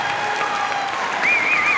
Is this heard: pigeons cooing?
no